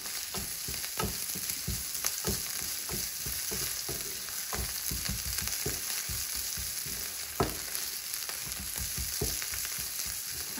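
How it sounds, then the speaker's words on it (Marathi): Crushed coriander and cumin seeds sauté in a pan, giving a steady close sizzle with frequent small crackles and spatula stirring scrapes that continue without a break. "आणि याला पण छान असं परतून घेते."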